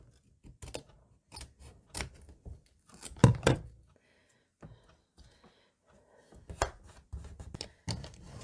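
Scissors snip through a junk journal binder cover in a quick series of close, crisp cuts, separated by short pauses.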